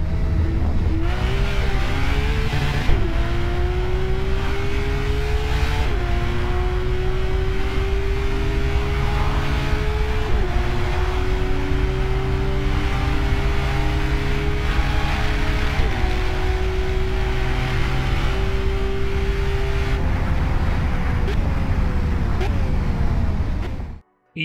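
A Porsche 911 GT3 RS in the Assetto Corsa racing game screams hard through rising revs, with repeated upshifts cutting in roughly every few seconds, loud and continuous throughout before it stops abruptly at the end.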